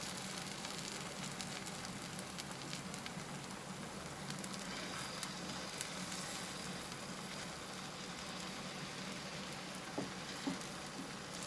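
Potato crepe batter hisses and sizzles steadily in a heated pan over a medium flame, a dense, even crackle running the whole time with a few faint clicks near the end.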